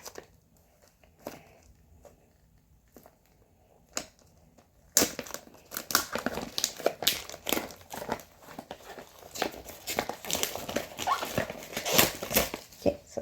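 Crinkling and crushing of plastic wrapping on a doll blind box, quiet and sparse at first, then a long stretch of loud, busy rustling and tearing up close.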